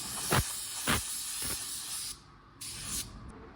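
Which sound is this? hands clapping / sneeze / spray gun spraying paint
spray gun spraying paint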